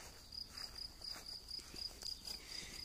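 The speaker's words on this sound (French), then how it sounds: "Est-ce que vous entendez les grillons chanter?" Crickets in a home garden, a faint, steady train of high pulsed chirps repeating evenly at a distance over a quiet background.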